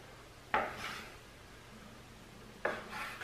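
A knife cutting rolled dumpling dough into pieces on a board: two sharp chopping strikes about two seconds apart, each followed by a brief scraping drag, close and clear with no voices.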